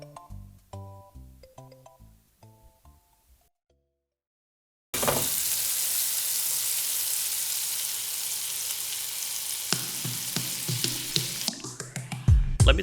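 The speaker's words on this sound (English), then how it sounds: "If they sizzle when you poke them, then it's time to turn them." Burgers frying on a hot cooking surface give a loud, steady sizzling hiss that runs for about eight seconds, with a few clatters near the end, after a short musical passage and a moment of silence.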